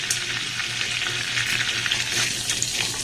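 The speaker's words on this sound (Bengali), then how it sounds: "এটাকে আমি একটু নাড়াচাড়া করে ভেজে নেব" A bay leaf, cardamom, cloves and cinnamon sticks fry in hot ghee, sizzling and crackling steadily close by as they are stirred around.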